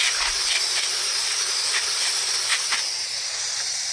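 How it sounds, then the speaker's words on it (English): Running water rinsing polished rocks from the Alvord Desert, a steady broadband hiss that stays loud and even throughout, with a few faint clinks of stone. "I'll finish rinsing it off and get it put in pre-polish."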